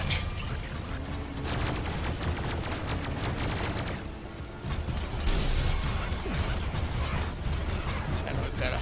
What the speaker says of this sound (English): we've got a plasma firing from back there